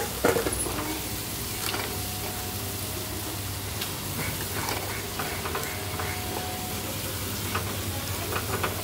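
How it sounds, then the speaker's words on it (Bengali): Meat fries in a pan and is stirred, steady sizzling with intermittent scraping stirs throughout, close and moderately loud, no voices. "এটাকে আমি ভালো মতো এবার মিশিয়ে নেব।"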